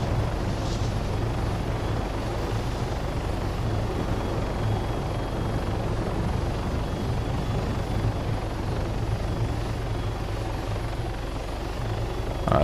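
A helicopter in the video game Arma 3 Project Reality gives off a constant, droning rotor and engine roar at steady loudness, with no voices over it.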